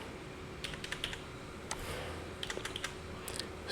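Quick bursts of typing on a computer keyboard, irregular clusters of key clicks close by, with no voices.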